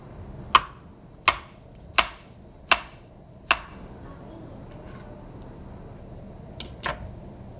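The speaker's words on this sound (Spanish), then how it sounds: "voy a cortar el plátano" A knife slices through plantain on a kitchen board in five sharp, evenly spaced cuts, followed by a pause and two softer strokes, close and crisp against a quiet room.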